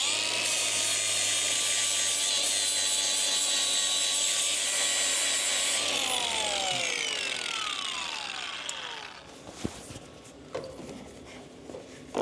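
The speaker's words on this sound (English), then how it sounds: "I'm gonna clean it up with a flap wheel and some of those humps and bumps first." A flap wheel on a grinder smooths welds on a driveshaft for a Mini Mack A40 project, giving a loud, steady whine that winds down into a falling pitch, followed by quieter scattered clanks and handling noises.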